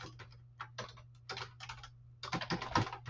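Computer keyboard keys are pressed in quick clustered bursts while Visual Basic code is entered, a soft close clatter with short gaps and a low steady hum beneath.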